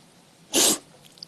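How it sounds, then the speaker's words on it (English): A single short, sharp nasal sniffle, loud and close, standing alone against a quiet room. "A sniffle, sniffle, sniffle."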